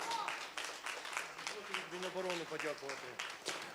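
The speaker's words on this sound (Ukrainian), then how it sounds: "Можна поаплодувати гучніше." Audience applause at a national forum following a theater performance, a scattered clapping wash running under a speaking voice in a hall.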